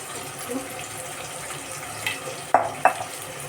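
Salted soya chunks fry with a faint, steady sizzle in a pan, with a couple of sharp metallic clinks from a spoon near the end.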